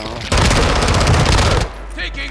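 Rapid automatic gunfire in a first-person shooter game, a loud, dense burst of rattling shots lasting just over a second, followed by quieter lingering sound and a hint of a voice.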